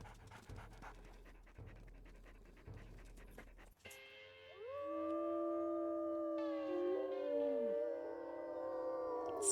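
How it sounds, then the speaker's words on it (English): A wolf in the game WolfQuest lets out a deep, sustained howl with wavering, overlapping tones, preceded by rhythmic panting, loud and close. "Seven has a very deep howl."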